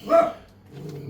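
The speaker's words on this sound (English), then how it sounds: "that's the dog." A dog gives one short, close bark followed by a faint, low trailing whine.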